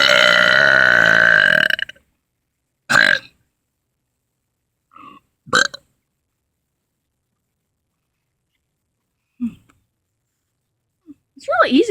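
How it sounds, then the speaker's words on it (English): A loud, long burp after drinking soda rumbles out at the start, followed by several shorter, quieter burps and grunts spaced apart by silence. "Some people think it's really hard to do a really big burp like that, but it's really easy."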